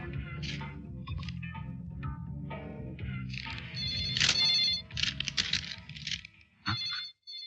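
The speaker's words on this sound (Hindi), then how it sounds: "शेखर तेरा फोन था।" A telephone rings with a repeating electronic ringtone, loud and steady for several seconds before cutting off, over a low background hum.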